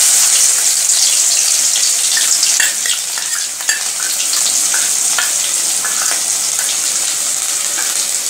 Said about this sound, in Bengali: এখানে আমি পুরো একটা গোটা রসুন ছাড়িয়ে থেতো করে তেলের মধ্যে দিয়ে দিয়েছি।